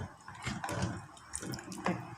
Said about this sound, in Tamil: கொஞ்சம் தண்ணி கொஞ்சம் ஊற்றுறேன்,